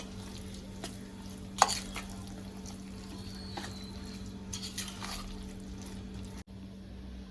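Vermicelli idli batter being stirred in a bowl, soft wet scraping and a few knocks of the spoon against the side, close and fairly quiet over a steady background hum.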